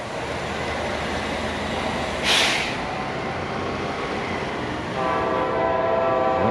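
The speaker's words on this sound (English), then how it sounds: "Oh, here comes the train." A train rumbles past steadily in Oceanside, then sounds a long, loud, sustained horn near the end, heard outdoors with no talk.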